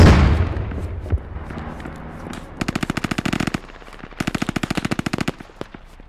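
Automatic weapon fire in the military shooter game Squad comes in two loud, rapid bursts of evenly spaced shots, separated by a short pause.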